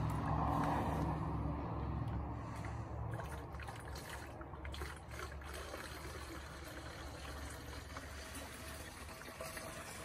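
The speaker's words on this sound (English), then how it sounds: "now we're just gonna move the solution into our sprayer" Nematode solution poured into a garden sprayer, a continuous liquid trickle and splash that starts louder and settles into a steady stream, close by with no talking.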